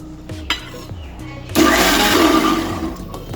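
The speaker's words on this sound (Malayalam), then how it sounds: "ഇനി ഇതിനെ നമുക്ക് മിക്സിയിലിട്ടൊന്ന് അടിക്കാം." Oil is blended for mayonnaise in an electric mixer grinder: after a few light knocks, the motor starts abruptly into a loud, close, steady whirring roar that lasts to the end.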